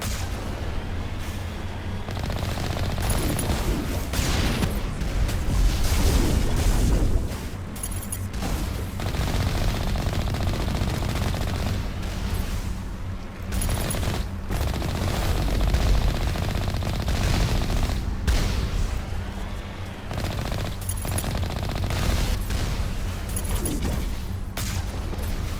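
Rapid enemy gunfire in the Mass Effect video game, bursts of automatic weapon fire with heavier booms layered over a dense, steady battle din, loud and continuous throughout.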